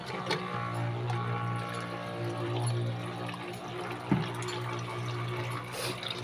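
Water pouring steadily from a small 12V DC motor pump during a bench test, a continuous close rush with a steady motor hum beneath it, no talking.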